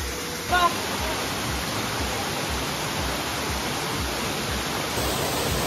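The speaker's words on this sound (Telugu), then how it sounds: "ఇది జలతరంగిణి వాటర్ ఫాల్స్" The Jalatarangini waterfall roars in a steady, dense rush of water, loud and continuous with no pauses.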